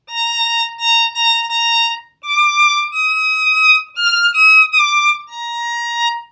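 Solo violin playing a practice passage, shifting between fourth and fifth positions: a short run of clear bowed notes with brief pauses, close and bright, no speech.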